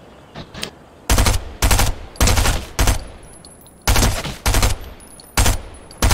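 Loud bursts of video-game gunfire in a competitive shooter match, about eight separate volleys of rapid automatic fire spaced unevenly over several seconds, each burst sharp and full, with quiet gaps between.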